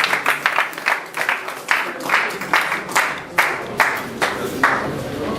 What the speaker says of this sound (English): please join my escort to clap